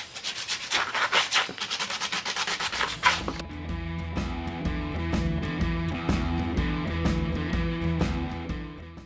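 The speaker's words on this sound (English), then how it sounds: "So we've got the surface all sanded down." A Jeep wheel's surface is scuffed with sandpaper: quick rhythmic rasping strokes up close for the first few seconds, then a lighter, steadier rubbing with faint regular ticks.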